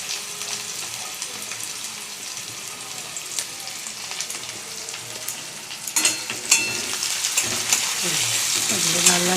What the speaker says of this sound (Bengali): লাল লাল করে ভেজে নিই।